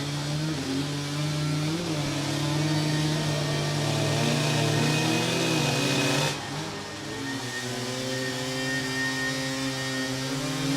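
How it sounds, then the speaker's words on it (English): Hard enduro motorcycles doing a burnout at a King of the Motos awards event, engines revving hard in a sustained loud roar with wavering pitch, easing briefly near the end before climbing again, no speech over it. "Burnout time for all three."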